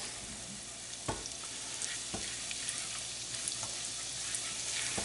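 Garlic and shallots sweating in foaming butter in a pan give a steady, close sizzle, with a few light stirring clicks and no talking.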